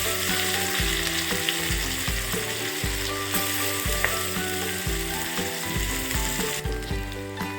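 Chopped onion sizzles in hot ghee for egg biryani, a steady loud crackling fry with a repeating rhythmic mechanical clatter running through it, no voices.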